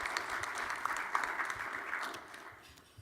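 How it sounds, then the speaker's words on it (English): An audience at a commissioner's opening-remarks event claps in a short round of applause for a sponsor, a steady moderate patter of many hands that thins toward the end. "let's give them a little round of applause as well."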